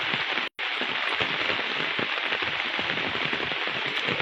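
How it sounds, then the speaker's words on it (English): Heavy rain pours down steadily in a dense, constant roar over Paynesville, broken only by a brief dropout near the start, with no voices heard. "a heavy downpour of rain all night"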